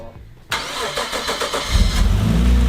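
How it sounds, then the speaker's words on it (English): A car engine cranks for a moment then catches and roars into a steady, loud idle, with no talking. "we're just trying this just to see if the starter works"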